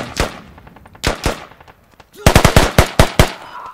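Gunfire in a tactical shooter match, sharp single shots spaced out at first, then a quick burst of rapid automatic fire, loud and close.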